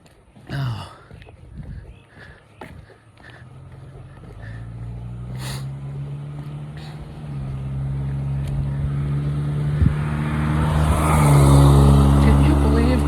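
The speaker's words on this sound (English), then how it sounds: "I thought maybe that was a mail truck because he sort of slowed down as he was behind me." A mail truck drives past along a road and slows, its engine rising from a low rumble to a steady, louder drone that builds toward the end, heard outdoors during a walk with light footsteps and small noises early on.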